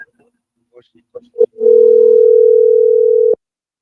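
A single long, steady electronic telephone tone sounds loudly for nearly two seconds after a few brief clicks and beeps of dialing, with no one answering.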